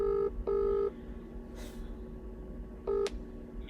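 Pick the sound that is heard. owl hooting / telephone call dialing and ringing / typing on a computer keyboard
telephone call dialing and ringing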